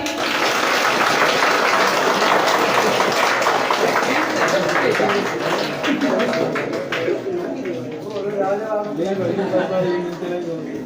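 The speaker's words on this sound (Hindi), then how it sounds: "ताली बजा दीजिए।" Dense crowd clapping fills a school Independence Day celebration, loud and continuous for several seconds before thinning out, with voices talking over and after it.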